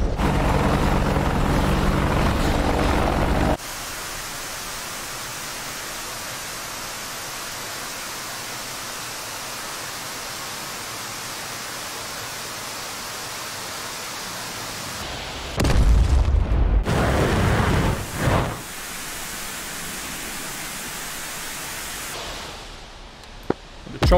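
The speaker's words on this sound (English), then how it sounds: "Choppers are busy smashing something" Attack helicopters pound targets in a DCS World combat flight game, broad rushing rotor and engine noise filling the scene with heavy booming blasts in the middle stretch, sound cutting between louder and quieter passages.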